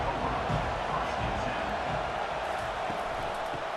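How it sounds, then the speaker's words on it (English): A college football video game stadium crowd, Ohio State against Kent State, gives off a steady, low, distant roar that hums evenly throughout beneath commentary. "listen to this crowd noise. This stadium is vibrating"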